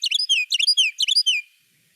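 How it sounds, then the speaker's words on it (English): Close and loud, a Carolina wren delivers its rolling tea-kettle song, three fast repeated phrases of bright whistled notes that cut off sharply into silence. "Carolina wren call."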